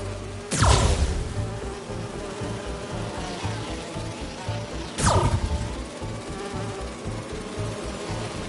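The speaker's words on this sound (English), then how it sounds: "Do you see those little holographic bee wolves?" Holographic bee wolves in the video game Marvel's Spider-Man 2 give off a steady, loud insect-like buzz that runs throughout, broken by two sharp bursts that rise and fall.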